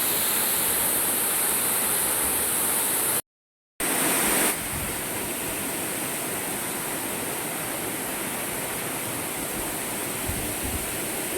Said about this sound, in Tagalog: Unang falls ito mga kapsi.